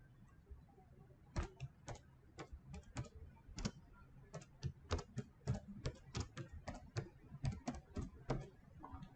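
Fingers type on a computer keyboard with quick, uneven bursts of crisp key clicks, close and clear, with short pauses between runs of keystrokes.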